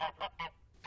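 Migratory geese honk at a wetland habitat, three loud, close calls in quick succession followed by the start of a fourth, evenly spaced and heard alone.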